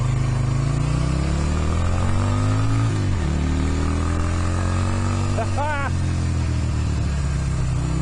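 A motorcycle's engine drones steadily while riding, its pitch climbing through gear changes with a brief dip and a rising whine, loud and continuous under a voice talking.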